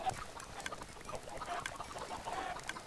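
Many Minecraft chickens cluck and chatter together in a dense, fairly quiet flock, with overlapping calls throughout.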